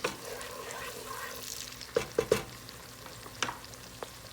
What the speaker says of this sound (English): We wanna cook this onion for about 10 minutes or until it's clear.